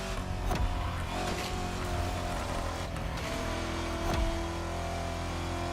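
A car engine revs steadily in the racing video game The Crew Motorfest, a sustained loud drone with surging pitch and a couple of sharp bumps or gear shifts along the way.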